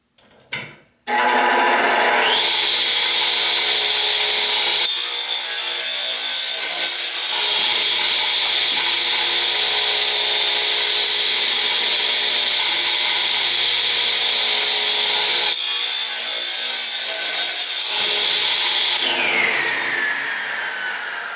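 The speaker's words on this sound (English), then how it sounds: "So here we are at the radial arm saw, and I'll cut these 2 pieces up." A radial arm saw roars loudly and steadily while cutting two wooden pieces for a Christmas lazy Susan, with its whine shifting as the blade bites into the wood twice, starting after a brief click and winding down at the end.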